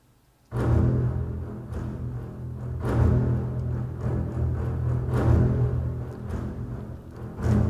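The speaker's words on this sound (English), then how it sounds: "The basses are playing some spiccatos here," Double basses play short, bouncing spiccato strokes in a steady, aggressive pattern, with sharp accents recurring every couple of seconds against a sustained low rumble.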